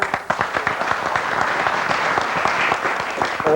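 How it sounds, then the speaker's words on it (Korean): Audience applause at a Korean book launch, a dense, steady round of clapping from a room full of people, fairly close and continuing throughout. "박수 받으시고"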